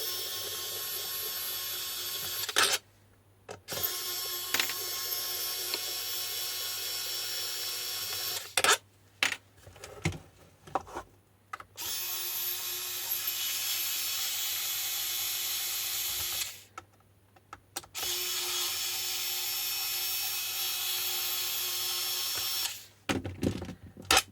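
Screws come out of an old Oxygen eMate battery pack with a small powered driver, whirring in several long, steady runs separated by brief pauses and clicks, close up with no speech.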